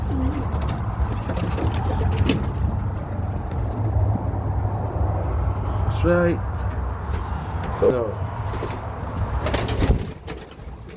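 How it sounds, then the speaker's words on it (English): Pigeons coo repeatedly and flap their wings inside a pigeon loft in New Jersey during feeding, with the birds close and clear beneath someone talking steadily over them. "in the pigeon loft."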